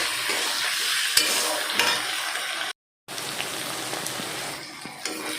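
Onion and capsicum frying with ginger garlic paste, a steady loud sizzle with scraping stirs, broken by a brief gap of silence midway.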